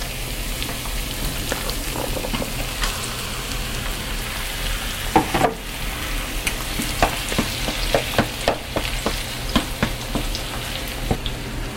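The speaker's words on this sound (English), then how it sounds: "You saute this for 3 or 4 minutes until the onions have softened." Onions and garlic sautéing in a pan, a continuous close sizzle broken by scattered stirring scrapes and taps, steady and moderately loud with no speech.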